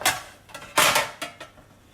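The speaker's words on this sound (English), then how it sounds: "Let's pop this back on the pan." Duck breasts set back onto a metal pan in a mini smoker, a few close, sharp clanks and scrapes of meat and metal spaced unevenly over two seconds.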